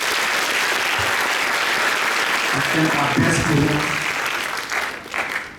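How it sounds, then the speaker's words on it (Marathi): A crowd at a student guidance event for Ambedkar Jayanti claps for Dr. Jagdish Sonawane in a sustained, loud round of applause, with a voice speaking over it midway as the clapping fades out. "डॉक्टर जगदीश सोनवणे यांच्यासाठी टाळ्या वाजवा"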